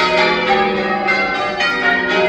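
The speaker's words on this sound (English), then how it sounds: "That's the bell tower." Chichester Cathedral's bells peal from the bell tower, a dense, loud wash of overlapping rung strikes that rings on continuously without speech.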